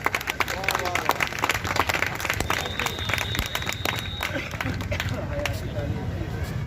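An audience at an award ceremony claps steadily throughout, a dense moderate patter of many hands, with a voice speaking over the applause.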